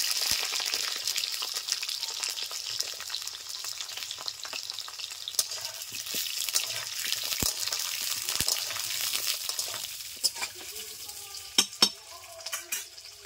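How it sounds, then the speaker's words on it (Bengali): Carrots added to a wok with potatoes frying in hot oil give a continuous close sizzle, with stirring scrapes and a few sharp metallic clinks near the end. "দিয়ে দিচ্ছি গাজর,"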